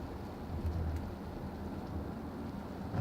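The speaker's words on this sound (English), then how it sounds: "I love the sound of the rain hitting my car." Steady rain patters on a car, a constant soft hiss with a low rumble underneath.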